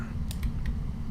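A few quick keyboard and mouse clicks sound close over a low steady hum of a computer running Autodesk Maya, three light taps within about a second.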